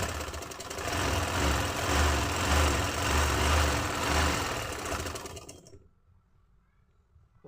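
A sewing machine stitches a trouser seam in a steady, fairly loud mechanical run that stops abruptly near the end, leaving near silence.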